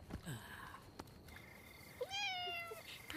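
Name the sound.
cat meowing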